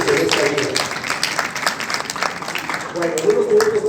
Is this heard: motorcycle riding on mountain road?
no